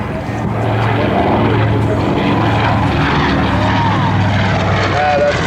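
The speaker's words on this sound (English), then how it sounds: "Photo pass by the Yankee Warrior." Yankee Warrior, a World War II bomber, makes a photo pass at an airshow, its propeller engines giving a loud, sustained droning roar that holds steady throughout.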